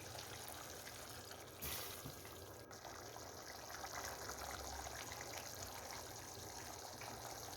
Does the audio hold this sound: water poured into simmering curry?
yes